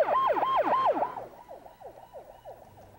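A Korean ambulance siren heading to hospital from a roadside accident scene, wailing in repeated rising-and-falling sweeps that start loud and then grow fainter as the vehicle pulls away, with a low vehicle rumble beneath and no speech.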